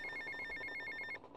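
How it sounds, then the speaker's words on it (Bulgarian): A telephone rings in the game GTA Vice City, giving a fast, trilling electronic ring in repeated bursts for over a second. It stops abruptly, and quiet background ambience follows. "Какъв този телефон?"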